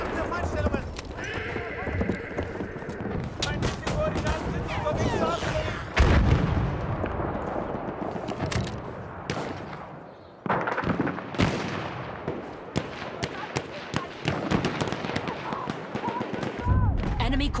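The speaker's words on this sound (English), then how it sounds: "Enemy coordinates have been sent to our artillery." Artillery fire in the video game Battlefield: heavy booming blasts land at intervals amid crackling gunfire and battlefield clatter, with voices calling out throughout.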